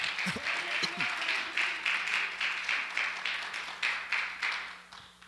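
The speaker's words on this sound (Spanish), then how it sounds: "Dele un aplauso al Señor." Congregation applauding during a church sermon, a steady rhythmic clapping sustained throughout at moderate distance, with a faint voice underneath.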